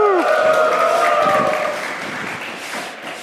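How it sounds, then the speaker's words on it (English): A crowd at a university game programming lab's final presentation lets out a loud burst of cheering and whooping that gradually fades into scattered applause. "So I want to hear a big cheer from the House of Hyrule."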